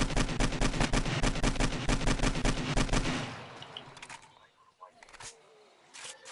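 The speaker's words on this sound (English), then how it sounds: "I'm shooting them with the dang AK." AK rifle fire in 7 Days to Die, a fast automatic burst for about three seconds, loud and close, then stopping into quieter ambient game sounds with a couple of faint later noises.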